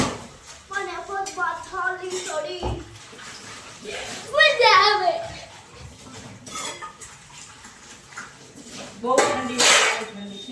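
Dishes and pots washed by hand under cold running tap water on a chilly morning, with splashing water and clinking utensils coming in bursts while a voice talks in between.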